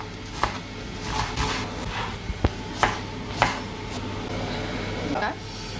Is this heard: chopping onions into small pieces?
yes